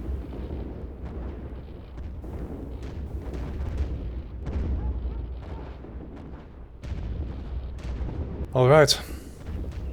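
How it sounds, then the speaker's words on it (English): Anti-aircraft guns fire in the World War I flight game Wings Over Flanders Fields over Arras, giving off repeated low, distant booms and rumbles under constant engine drone, while someone briefly speaks. "Anti-aircraft guns are giving him a nice farewell salute"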